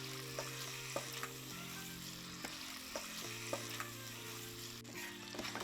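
Shrimp frying in a pan for shrimp scampi, a steady close sizzle with a low hum running underneath and occasional soft clicks as the pieces are stirred.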